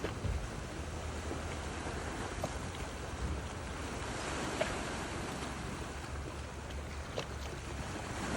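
Calm sea washes against the shore, a soft continuous rush of small waves with gentle wind noise, fairly faint and steady with no voices.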